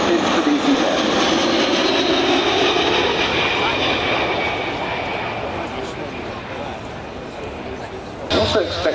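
A DC-10 jet airliner roars past in a fast low pass at the Biggin Hill Air Fair, a loud sustained engine rush that slowly fades, with a commentator's voice over it.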